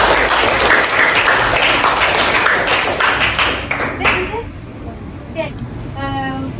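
A small group of classmates claps enthusiastically for a student, a dense burst of hand claps that fades after about four seconds as a voice begins speaking.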